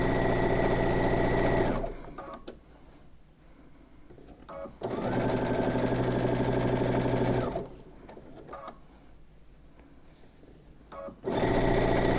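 Sewing machine stitching a straight seam on a towel, two loud sustained whirring runs with a steady motor drone, separated by quieter pauses filled with faint handling clicks.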